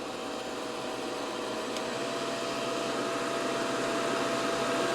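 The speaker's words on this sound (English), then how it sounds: "you're going to hear the RPM of the fan of the hair dryer." Hair dryer fan on a LiFePO4 portable power station after its heater switches off, a loud, steady broadband whoosh with a faint whine, building slightly in level across the span.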